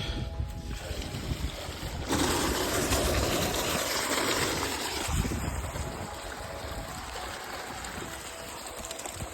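Continuous rushing flow of water running through a farm irrigation channel, loud and broadband, with outdoor wind-like noise and no talking.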